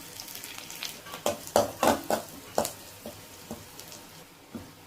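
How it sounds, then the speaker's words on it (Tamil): Onion and crushed garlic sauté in a pan for a prawn kuzhambu, a soft sizzle under a series of scraping stirs that come in quick bursts, then thin out to a few lighter strokes. "இது ரெண்டும் நல்லா வதங்கட்டும்"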